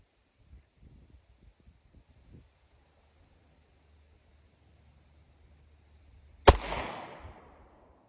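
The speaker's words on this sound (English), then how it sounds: "Gun's clear, 5 shots fired." One sharp, loud shot from a Sig P320 Compact pistol at a shooting range cracks out after several quiet seconds and is followed by a short echoing decay.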